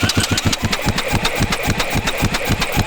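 A worn 1985 Honda CR500 two-stroke motorcycle engine running at low RPM, a rapid, loud, close putter of evenly spaced firing pulses throughout.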